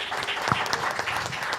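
An audience at a church gathering claps in a brief burst of dense, steady applause, close and fairly loud.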